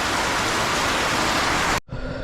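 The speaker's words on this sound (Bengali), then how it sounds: "তো দেখো বন্ধুরা, বৃষ্টিটা অনেকটা কমে গেছে।" Heavy rain falls as a loud, dense, steady hiss. It breaks off abruptly near the end, and a quieter, duller wash of sound follows.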